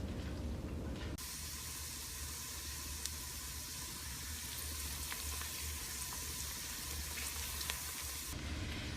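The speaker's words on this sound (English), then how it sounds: "I usually saute my onions and peppers for about 6 or 7 minutes" Steady, close sizzling and hissing of onions and peppers sautéing in a hot pan, continuous throughout with no talking.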